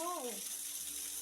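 Water running from a household tap in a thin, steady hiss, with a brief voice at the very start.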